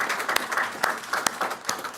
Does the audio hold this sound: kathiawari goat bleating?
no